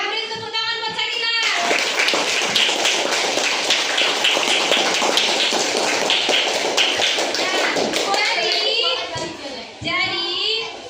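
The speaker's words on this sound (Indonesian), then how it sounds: "Beri tepuk tangan buat Shakila" Classroom applause for a student named Shakila, a dense burst of children's clapping that swells after the opening second and carries on for several seconds, with young voices and adult speech around it.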